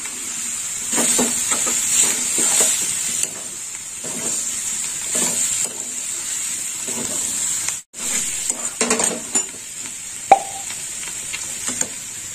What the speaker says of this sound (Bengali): আর আলু বেগুন দেওয়ার পর আর একটু কষে নেবো।